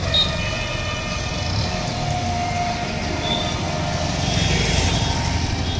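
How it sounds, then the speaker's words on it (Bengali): A Yamaha R15 version 2 motorcycle on a test ride, its engine a steady loud drone with rushing wind throughout and no clear talk. "তো R15 গাড়িটা আমি এখন তোমাদের চালিয়ে দেখাচ্ছি, কেমন লাগছে।"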